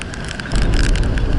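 Loud, roaring storm wind of about 110 km/h at sea buffets steadily with a broad rushing noise, swelling stronger after a moment, blowing hard across open water.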